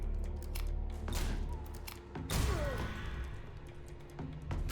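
Shooting attacks in the action game Curse of the Dead Gods land as a series of sharp impacts and cracks, with bursts of clattering hits at irregular intervals over a low game-sound background.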